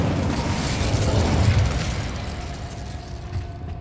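An Incendio fire spell is cast in the PS5 game Hogwarts Legacy, a dense, roaring whoosh of flame with a low rumbling burst that swells early and then fades into a softer crackling wash.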